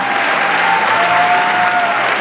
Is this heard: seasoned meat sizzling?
no